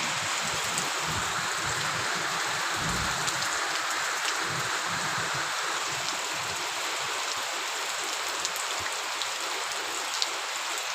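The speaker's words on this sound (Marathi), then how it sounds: "अतिशय चांगल्या प्रमाणात पावसाची सुरुवात झालेली आहे" Steady, dense rain pours down on the village of Devkuli, a continuous even hiss of drops hitting surfaces with no pauses or other sounds.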